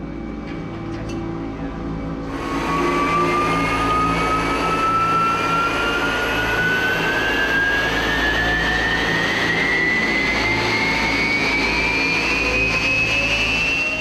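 A military jet engine runs on the ground at a NATO air base. A steady rumble swells sharply after two seconds into a loud roar, and a whine slowly climbs in pitch as it spools up.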